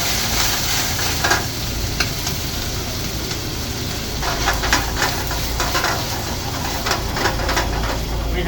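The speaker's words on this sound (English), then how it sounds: "Now to deglaze the pan, I'm going to add wine into it." Wine poured into a hot pan after searing sea bass for an Italian-style dish, sizzling steadily and loudly up close, with stirring scrapes and brief crackling bursts throughout.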